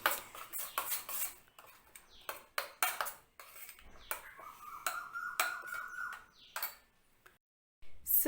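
Sesame oil tempering poured into spicy chutney and stirred, heard as sharp clinks and taps of a metal spoon against a bowl in uneven bursts, close, with short pauses and no talk.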